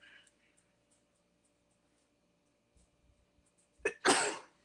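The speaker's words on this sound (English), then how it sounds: "I'm going to sneeze." One sharp, close sneeze bursts out loudly near the end after a soft breath-in, following several seconds of near silence with faint small handling noises.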